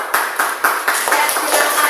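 A classroom of students claps during a Pancasila lesson, a short round of sharp, fairly close hand claps with a few distinct strikes at the start.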